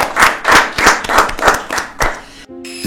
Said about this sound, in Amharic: አድርገን ጭብጨባ ያስፈልጋል።